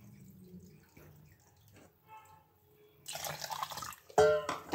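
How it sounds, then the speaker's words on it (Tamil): Water poured into wheat flour in a bowl, heard as a close, splashy rush of liquid that starts after a few quiet clinks and drips and keeps going to the end. "ஆனால் ரெண்டு கப் தண்ணி ஊற்றுறேன்"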